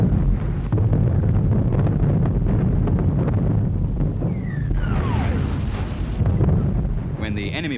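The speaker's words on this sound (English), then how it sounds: "Mortars always were inclined to be noisy," Army mortar fire during infantry attack training, heard as a continuous loud, rumbling barrage of blasts with a descending whistle-like streak midway and a sharper burst near the end.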